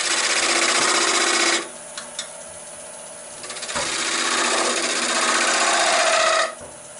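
A wood lathe spins at about 930 RPM while woodturning with an off-center jig. A loud, buzzy mechanical whir drops to a quieter hum for a couple of seconds, then swells back up before cutting off abruptly.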